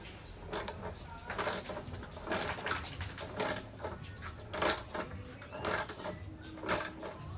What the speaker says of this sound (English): tighten down these bolts.